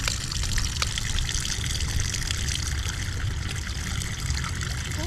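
Drinking water trickling and pouring steadily in a continuous close stream outdoors in Santa Barbara, Iloilo, Philippines, with wind adding a broad rushing hiss.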